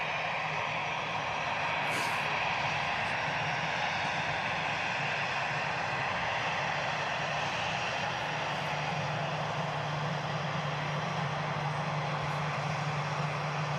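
A Vueling airliner vacates the runway at Manchester Airport after landing from Barcelona, its jet engines giving a steady, moderately distant whine and roar that holds evenly throughout.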